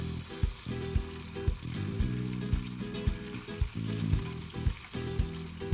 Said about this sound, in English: Add a pinch of salt to the oil before adding the fishes for frying so that they do not splutter too much.